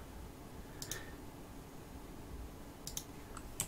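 A single computer keyboard key is pressed during 3D modelling work in Fusion 360, giving a few faint, sharp clicks spaced apart over a quiet background.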